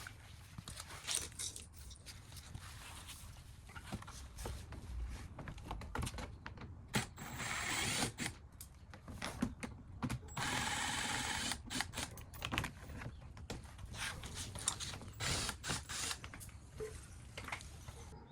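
A ratchet works loose a row of 9/32 bolts on a C6 Corvette front air dam, giving bursts of rapid clicking broken by short pauses and a longer steady run near the middle, close and moderately loud.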